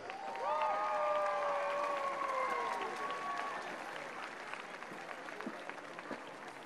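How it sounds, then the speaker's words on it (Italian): A large outdoor crowd at the Knock Marian shrine in Ireland, during Pope Francis's visit, applauds volunteers with dense, sustained clapping that swells early and slowly fades, with sustained tonal sounds over the top. "I would ask you to please give a huge round of applause to our many volunteers who have helped us."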